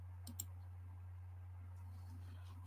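A computer mouse clicks a couple of times in quick succession, close and crisp, over a faint steady hum in a quiet room.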